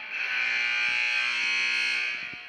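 A basketball game buzzer at a girls' tournament game, Washington vs Utah, blares as one loud, steady, harsh electronic tone lasting over two seconds and tapering off at the end, heard alone.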